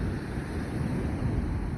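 Waves break on a shingle beach as a dense, continuous rushing wash with wind buffeting the microphone, loud and close without any clear single crash.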